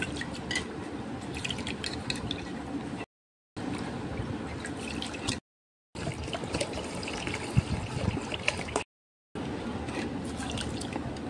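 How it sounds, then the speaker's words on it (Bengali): Rice being washed by hand in a bowl of water, gentle sloshing and trickling with brief breaks between rinses. "চালটা ভালো করে ধুয়ে নেব"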